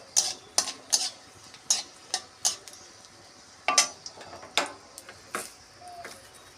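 Dried red chilli, bay leaf and nigella seeds tempering in hot oil in a kadai, heard as a string of sharp crackles, pops and spoon scrapes in bursts over a faint steady sizzle, close and moderately loud, with no voices.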